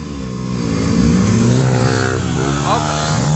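An off-road motorcycle engine revs loudly and steadily on a muddy 4x4 trail, with a sustained droning roar that rises and holds, heard close up without speech.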